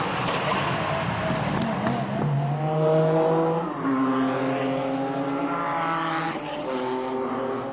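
Race cars from the 2009 Roscar series roar around the Magny-Cours or Val de Vienne circuit as the safety car comes out, engines loud and close, pitches sweeping up through the gears over a continuous mechanical drone.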